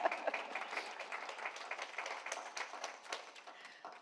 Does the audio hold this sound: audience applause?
yes